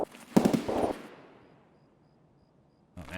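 A 200K gun in Escape from Tarkov fires a short loud burst of a few rapid shots, then the report rings off and decays over about two seconds of near silence before a voice begins speaking.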